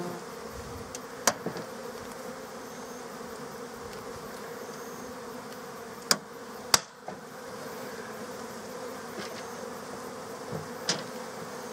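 Honey bees crowd into a long bench hive, a dense continuous buzzing hum close by with a few sharp knocks and clicks of hive parts scattered throughout.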